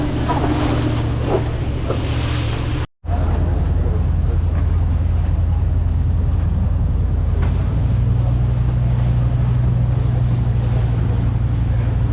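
Strong wind buffets the microphone on a boat ride across the sea from Pattaya to Koh Larn island, a loud steady rush over the low drone of the boat's engine and water, with a brief dropout early on.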